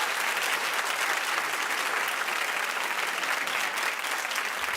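Studio audience applause at a talk show, a loud, dense and continuous wash of clapping that stays even for several seconds with no talking over it.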